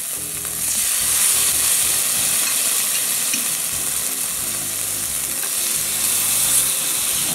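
Tofu fries in a lightly oiled pan, giving a loud, continuous crackling sizzle with a few faint scraping sounds underneath.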